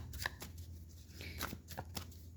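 Tarot cards are shuffled and drawn from the deck in a few brief, quiet snaps and sliding swishes, heard close and alone.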